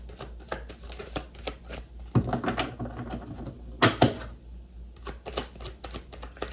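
Tarot-style advice cards being shuffled by hand, a run of soft papery riffles and snaps with two louder bursts partway through, close and quiet with no talking.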